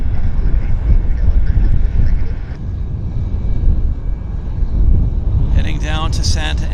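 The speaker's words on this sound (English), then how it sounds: "that Air Canada Max I was telling you about is going to Santa Ana Airport" Air Canada 737 Max jet at Vancouver airport, a broad steady engine roar with wind noise heard from a distance, with a person talking over it and some brief high-pitched sounds near the end.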